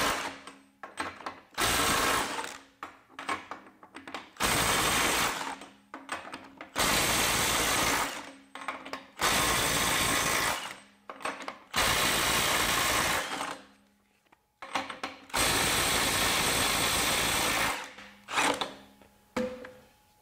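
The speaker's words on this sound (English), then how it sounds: "now we have the Milwaukee, still have a full 5 amp hour battery, and we're in mode 3, loosen" A Milwaukee 2960 mid-torque impact wrench on a full 5 amp-hour battery, set to mode 3, loosens fasteners in loud, hammering bursts of a few seconds each, separated by short pauses and clicks, with no talking.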